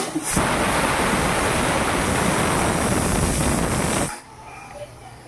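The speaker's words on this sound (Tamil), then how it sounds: "இங்கே கொதிக்குது" A loud, steady steamy hiss of boiling water in a pressure cooker roars for about four seconds, then cuts off abruptly to quiet.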